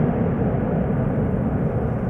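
Jet airliner taking off at Amsterdam Schiphol with landing gear retracting, a steady, loud low roar of engines filling the whole stretch without breaks.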